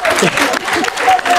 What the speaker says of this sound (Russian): Эти аплодисменты отнесем ему.